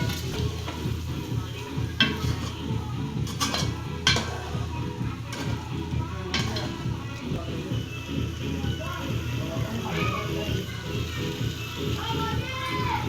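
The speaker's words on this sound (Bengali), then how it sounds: "এইভাবে আবার কিছুক্ষণ কষাতে হবে, তারপরে জল দেবে।" Spiced fish with green chillies, chilli powder, turmeric and ground spices stirred and fried in a pan, a steady sizzle with repeated scraping stirs and occasional clinks of the utensil, close and continuous.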